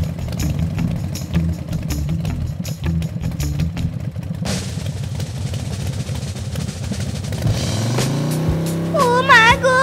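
A cartoon motorbike engine chugs in a steady, rapid idle, then its pitch climbs as it revs up, ending with a few bright whistling tones.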